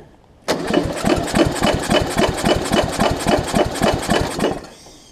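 A small engine on a Murray widebody riding mower, freshly fitted with a new carburetor and fuel lines, catches and runs steadily with a fast, even chugging pulse, loud and close, before cutting out near the end.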